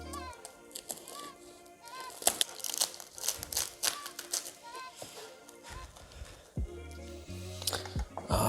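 A knife crunches and crackles through the baked crust of a Greek spanakopita spinach and feta pie: a steady run of crisp, crinkling breaks, close and fairly loud, with no talking.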